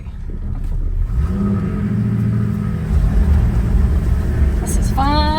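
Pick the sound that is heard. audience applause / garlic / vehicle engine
vehicle engine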